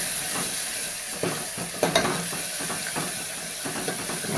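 Chili powder sautéing in hot oil for ghol leaf bhaji, a steady close sizzle with soft scraping stirs and a few sharper crackles along the way.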